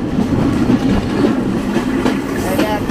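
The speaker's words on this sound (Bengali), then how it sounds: "এটা একটা বাংলাদেশের লোকাল ট্রেন।" A Bangladeshi local train, the Mahananda running from Darshana Halt toward Kushtia, rumbles steadily from inside a carriage, with a dense, continuous low roar and faint clattering of wheels.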